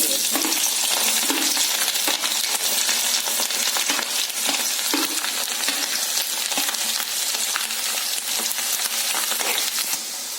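Garlic and chilies crackle loudly in hot oil in a pan, with mustard seeds popping, while a fish pickle is prepared. The sizzle is steady and close, spiked by sharp pops and a few light metallic clinks.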